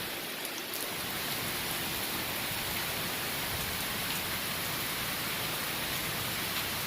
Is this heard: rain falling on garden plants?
yes